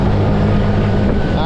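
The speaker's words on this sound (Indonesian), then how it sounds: "Cuma emang agak gerung aja kalau di gas ya teman-teman." A Honda Beat ESP scooter fitted with 10-gram rollers roars under throttle, a loud, close, continuous engine drone that holds steady for the whole moment.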